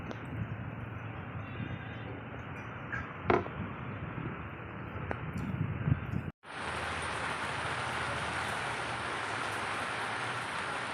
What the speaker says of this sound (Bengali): জোরে জোরে হাওয়া দিচ্ছে আর হালকা ঝিরিঝিরি বৃষ্টি পড়ছে